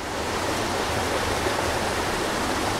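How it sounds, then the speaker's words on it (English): A roadside mountain river where native trout are fished rushes steadily, a close, even wash of flowing water with no voices over it. "What a cool river."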